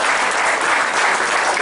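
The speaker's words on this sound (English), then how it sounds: "I'd like to give them a round of applause and thank you too." Audience applause at an opening night media presentation for a theme park Halloween event, a dense, steady burst of clapping from a crowd throughout.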